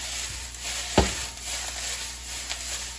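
Hawaii-style fried saimin noodles sizzle steadily in a hot pan as they crisp, with a faint clack of a utensil breaking them up; no talking.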